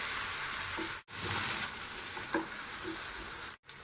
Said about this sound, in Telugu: జీలకర్ర వేసుకున్న తర్వాత ఉల్లిపాయలు, టమాటాలు, పచ్చిమిరపకాయలు, కరివేపాకు కూడా వేసుకుందాం. ఇవి బాగా ఫ్రై చేసుకోవాలి.